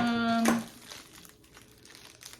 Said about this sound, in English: can I get this plastic off without scissors?